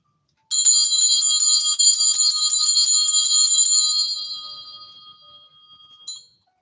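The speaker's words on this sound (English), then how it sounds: "it sounds like one of those old school bells" A bright, shrill bell like an old school bell rings continuously for about three and a half seconds, then fades out. A short second ring follows, clear and close with no other sound.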